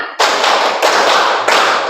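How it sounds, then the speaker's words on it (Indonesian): A classroom group claps together during a primary-school maths lesson, loud sharp bursts of blended hand claps falling in three quick counted clusters with brief gaps between them. "Tepuk 1, tepuk 2, tepuk 3, tepuk 4, tepuk 5"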